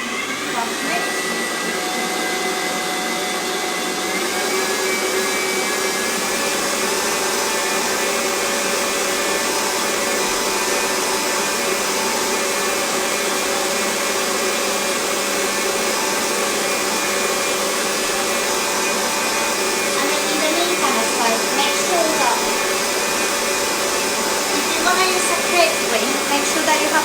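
Fast mixing of an egg and chocolate mixture for a Marquesa de chocolate, heard as a loud, steady whirring electric mixer drone running continuously for nearly half a minute with no voices.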